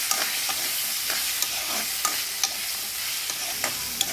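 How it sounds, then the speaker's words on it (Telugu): Salted flat beans (chikkudukaya) stirred as they fry in a pan, a steady hiss of sizzling oil with soft irregular scrapes of the spatula, close and alone. "సాల్ట్ వేసి ఒకసారి కలుపుకోవాలి"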